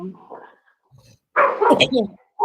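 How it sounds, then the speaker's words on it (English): Dogs let out a few short, sharp barks and yips at close range, broken by brief pauses, with a voice mixed in. "I'm gonna mute my dogs barking."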